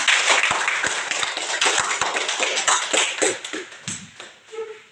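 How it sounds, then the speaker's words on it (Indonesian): Students in a grade VIII civics class at an Indonesian madrasah clap for themselves, giving scattered, sharp, close claps in an uneven rhythm that thins out toward the end, with no talking. "Tepuk tangan untuk kita semua."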